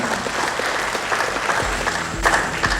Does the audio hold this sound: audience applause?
yes